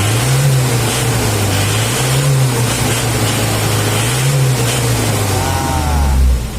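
Diesel engine of an Isuzu Panther revving hard at high RPM, a loud, steady drone with rising and falling pitch swells, close up and continuous.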